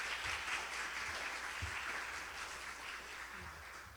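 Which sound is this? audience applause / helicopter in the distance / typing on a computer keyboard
audience applause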